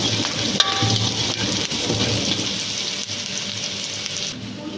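Onions sautéing in a hot pan for a red chilli chicken dish, a dense, steady crackling sizzle close up with light stirring scrapes, continuous and fairly loud with no talking.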